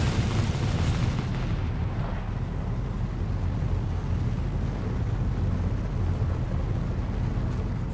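Ships being blown up in the Star Citizen video game, a continuous heavy rumbling roar of booms and blasts that stays loud and dense from start to finish with no talking.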